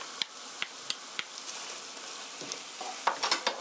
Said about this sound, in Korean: 고루 섞어주세요.